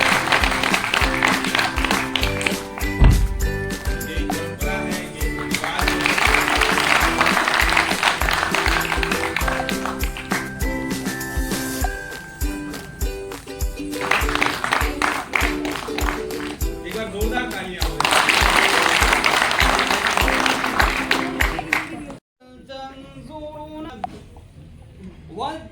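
An audience at a Nehru Yuva Kendra Kashmiri youth exchange programme in Gurugram applauds in loud, sustained waves of rhythmic clapping mixed with music, before the sound drops away near the end.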